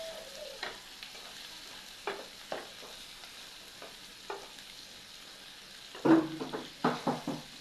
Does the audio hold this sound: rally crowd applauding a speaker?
no